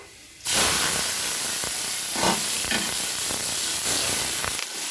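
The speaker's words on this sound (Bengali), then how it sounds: "চিংড়ি মাছটাকে আমি দিয়ে দিব কড়াইতে।" Salted, turmeric-coated prawns hit a hot wok with a sudden loud hiss that starts abruptly and then holds as a steady, crackling sizzle.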